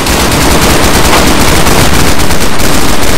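Rapid, very loud gunfire in the modded survival game DayZ, including a 12-gauge shotgun, a dense continuous burst of close shots filling the whole moment with no talking.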